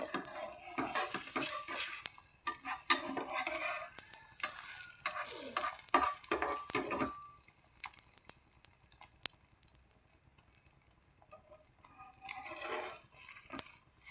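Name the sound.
carrot egg omelette frying in a pan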